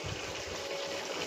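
Water at a rolling boil in a cooking pot for biryani, a steady close bubbling and seething with a low hum underneath, continuous throughout.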